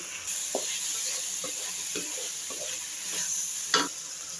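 Curry leaves and mint dropped into hot oil for capsicum rice sizzle steadily, a continuous close hiss broken by soft stirring scrapes and a sharper crackle near the end.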